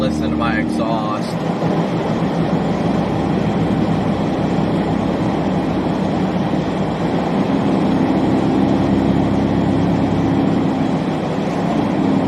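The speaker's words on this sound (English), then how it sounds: "Listen, you guys can listen to my exhaust." A car's exhaust drones steadily while the car drives on a snowy Nashville highway, with a continuous low rumble and road noise throughout and a brief squeak near the start.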